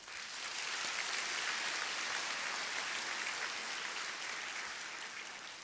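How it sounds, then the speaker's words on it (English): A large commencement crowd at a university's year-end graduation rites applauds its teachers: an even, rain-like wash of many distant hands clapping, fairly faint, holding steady and easing slightly near the end. "Why don't we give another round of applause to our teachers?"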